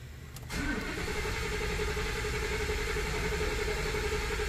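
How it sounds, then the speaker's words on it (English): Ford F150 with a 5.0 engine cranking over with the gas pedal held to the floor: a brief click, then a steady, loud, continuous mechanical drone with no speech. "push the gas down, hold it to the floor, and then crank the engine over"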